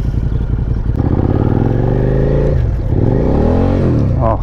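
A Suzuki SV650 motorcycle engine revs loud and close, its pitch climbing, dropping sharply as the bike slips into neutral, then rising and falling again in free revs.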